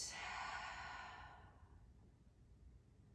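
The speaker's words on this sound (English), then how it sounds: "Take a deep breath in. And a long breath out." A long, breathy exhale during a morning vinyasa yoga flow, loud at first and then trailing off into quiet room tone after about a second and a half.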